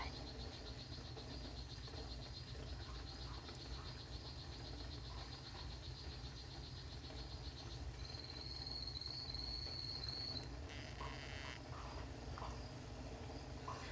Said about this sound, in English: The male is calling to let her know that he's ready to fertilize her eggs.